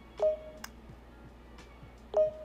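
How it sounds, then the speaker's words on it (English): An Android phone emits short, moderately quiet electronic beeps, two distinct tones about two seconds apart, over a faint background hum with no one talking. "It was making constant beeping sounds"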